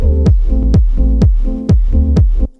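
A Teenage Engineering EP-13 sampler plays an intro groove: a punchy, loud loop of about six evenly spaced drum hits over sustained tonal chords, ending abruptly after a couple of seconds.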